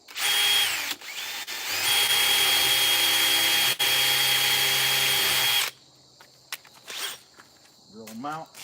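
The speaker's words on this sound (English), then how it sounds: "Drill them out." A power drill whines steadily as it bores into a chainsaw-carved wooden deer, running loud and close for several seconds with brief dips. It then stops, leaving quieter clicks and handling noises.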